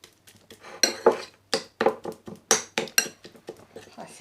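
A spoon stirs sugar and a pinch of salt into horseradish paste in a bowl, giving irregular clinks and scrapes against the dish, close and fairly loud.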